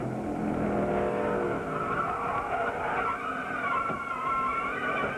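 A NASCAR Busch Series race car from 1999 slides loose on the track, its engine roaring close and loud as the tires squeal and scrub for several seconds.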